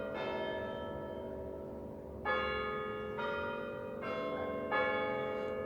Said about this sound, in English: Bells ring in the half hour